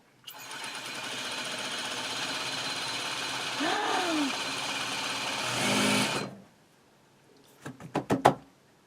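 An industrial sewing machine runs steadily for about six seconds with a dense, even mechanical whir, then stops, followed by a quick cluster of sharp clicking and knocking sounds.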